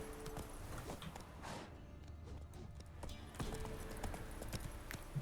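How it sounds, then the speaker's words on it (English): A horse's hooves clip-clop steadily at a walking pace through the Witcher 3 game world, soft and fairly quiet over a faint outdoor ambience. "Giddy up. Come on, Roach."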